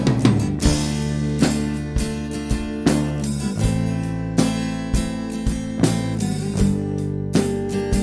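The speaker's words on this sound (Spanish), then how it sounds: "cómo sonaba originalmente cuando empezamos el video sin nada" A badly recorded drum kit, raw and unprocessed within a band mix, with regular kick and snare hits and washy cymbals over a steady groove for several seconds, moderately loud with no voices.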